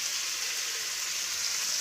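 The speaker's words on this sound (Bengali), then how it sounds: "কাঁকড়াগুলো নুন আর হলদিতে একটু ভাজা হচ্ছে" Crabs frying with salt and turmeric in a wok over a wood-fired stove, giving a constant close, bright sizzle with no talking.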